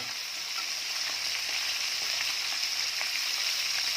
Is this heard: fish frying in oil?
yes